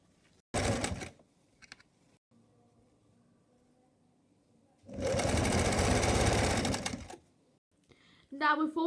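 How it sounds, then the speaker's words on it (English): A sewing machine stitches netting fabric around the neckline of a front-open jacket in two close, loud bursts of rapid even whirring, a short one and then a longer run of about two seconds, with brief quiet gaps and a voice near the end. "So we're going to place a bit of netting fabric and stitch that round first."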